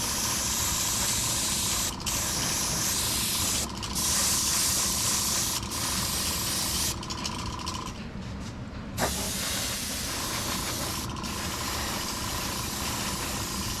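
An airbrush sprays touch-up paint on a 1972 Dodge Challenger during restoration, a steady close hiss running almost unbroken for the whole stretch, with brief pauses and faint background hum.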